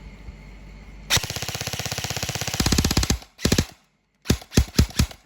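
E&C 815 Gen2 airsoft gun firing a full magazine: a rapid automatic burst of sharp clattering shots, then shorter bursts and a few single cracks as the ammunition runs out, close and loud.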